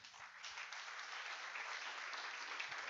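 A church congregation claps steadily through a sermon, a continuous even wash of applause at moderate distance, fairly soft and unbroken for a few seconds.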